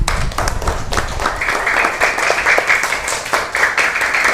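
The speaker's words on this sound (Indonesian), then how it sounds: "Tepuk tangan untuk kita semua." Schoolchildren in a fifth-grade classroom clap together, a burst of uneven hand claps that builds and holds, close and lively, with faint voices mixed in.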